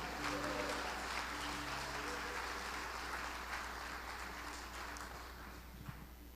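A church congregation applauds during a worship service, a steady, dense wash of clapping that fades slightly toward the end, with faint voices underneath.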